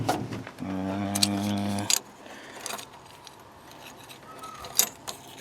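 Metallic jingling of keys on a ring, including a Ford key for a 1959 Ford F250, a few short bright rattles, with a steady low hum in the first couple of seconds and quieter clinks after.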